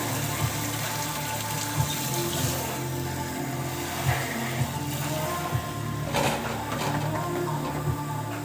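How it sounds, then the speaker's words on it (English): Hot water runs steadily from a tap into a sink, a continuous close rushing with light splashing and a few soft knocks, no voices. "I will turn the water all the way to hot."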